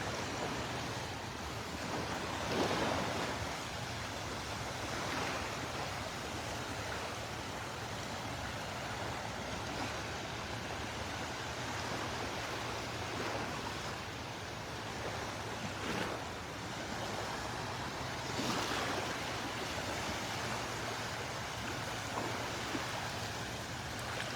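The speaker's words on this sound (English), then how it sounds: "Little waves breaking over the sandbar here." Small waves breaking over a sandbar at Delnor-Wiggins beach on a morning walk, a steady wash of surf with periodic swells of breaking water, close and continuous, with wind noise mixed in and no talking.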